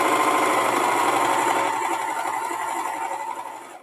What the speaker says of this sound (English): do you notice how much quieter this serger is?